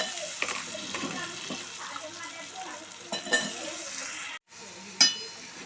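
Potato pieces and turmeric being stirred in a hot oiled pan for a potato bataani kurma, soft sizzling under scraping spoon strokes and occasional clinks, with light background noise and a brief dropout.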